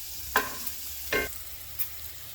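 A spoon stirs caramelizing food in a pan, giving three short scraping strokes spaced about a second apart over a soft sizzle, close and fairly quiet.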